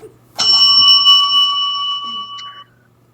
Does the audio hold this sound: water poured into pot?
no